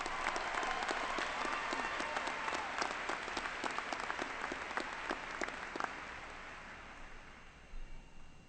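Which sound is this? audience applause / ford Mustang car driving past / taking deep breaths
audience applause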